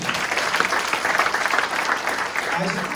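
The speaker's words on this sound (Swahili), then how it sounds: "Mpigieni makofi" An audience applauding a title deed recipient at a plot handover event, brisk continuous clapping from a modest crowd with voices faintly underneath.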